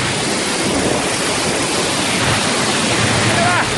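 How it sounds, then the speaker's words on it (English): Hendre Waterfall roars close by as its spray drifts over, a loud, steady broadband rush of falling water with a windy edge that never lets up. "It's just spray off the waterfall."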